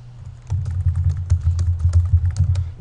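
Rapid clicking keystrokes on a computer keyboard, close and clear, tapping in an uneven quick rhythm after a brief quiet start.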